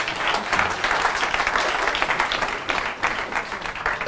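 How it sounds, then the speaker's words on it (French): An audience breaks into dense, sustained applause for a performer, many hands clapping together at a steady level for about four seconds, fairly close and without talk. "est-ce qu'on peut applaudir pour Claudel"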